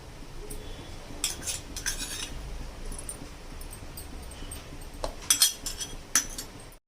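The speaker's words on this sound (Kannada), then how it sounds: "ಈಗ ಇದು ಮಿಕ್ಸ್ ಮಾಡಬೇಕು." Okra kurkure ingredients, with salt added, being mixed in a bowl: scattered metallic clinks of a spoon against the bowl, a burst of clinks near the end, close and fairly quiet with no talk.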